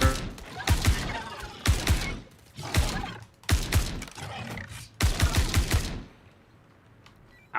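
Gunfire in a shooter video game: five or six heavy bursts of rapid shots, close and punchy, separated by short gaps, then fading to quiet at the end.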